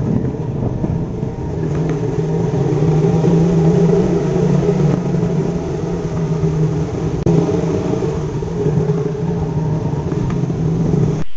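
Cars and motorbikes pass beneath a railway bridge in a steady stream, with a continuous engine drone and road rumble, loud and close, and no one speaking.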